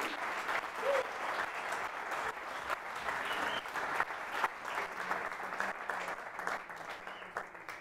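Church congregation at a men's convention applauds in sustained, fairly distant clapping, a continuous wash of hands with faint crowd noise and no speech.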